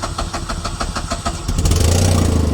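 A used Tata Nano small car's starter cranks in a rapid, even rhythm for over a second before the engine catches and settles into a loud, rumbling idle close by.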